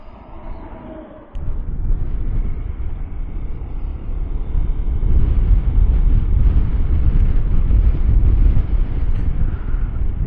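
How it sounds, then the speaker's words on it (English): Strong wind blows across an outdoor work area, a continuous low rumbling roar buffeting the microphone that grows heavier after the first second and stays steady and loud throughout, with no talking. "It is definitely breezy out here."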